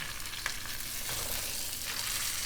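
Stuffed chicken rolls fry in a pan just after being turned. A dense, even sizzle carries throughout with a few light stirring clicks, and no voices over it.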